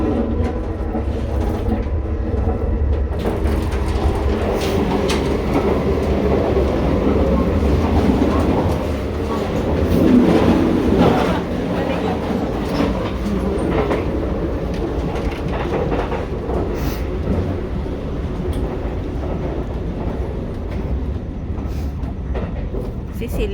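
A bullet train running on rails, heard from inside as a steady loud rumble with rattling and faint clickety-clack, swelling midway, while people talk over it.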